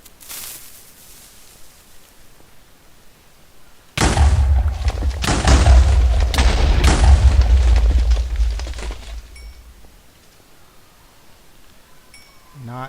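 In Minecraft, dynamite goes off with a sudden loud blast after a quiet stretch, followed by several seconds of rumbling, crackling debris that gradually fades back to near silence.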